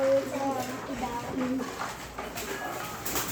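Pet pigeons coo at feeding time, with repeated low throaty coos close by and a person's voice mixed in among the birds.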